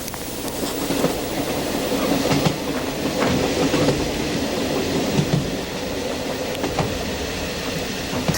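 A train rolls past on a mountain railway in Taebaek, a continuous rumbling roar with rhythmic clickety-clack wheel beats and occasional metallic squeaks, close and steady throughout.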